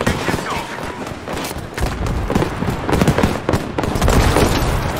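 Gunfire in Battlefield V on Xbox One, dense and continuous, with rapid shots and bursts layered close together across the whole stretch, loud and steady, with a voice speaking briefly over the battle noise.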